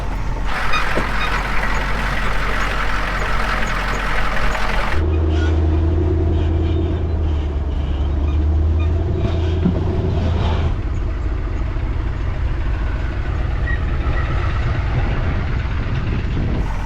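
A Humvee drives off a trail, a loud continuous engine rumble and low droning drivetrain noise that shifts in tone midway, heard close without talk.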